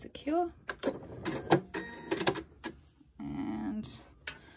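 A sewing machine stitches around a small fabric Tilda snail in short whirring bursts and one longer steady run, close by, with someone talking between the bursts.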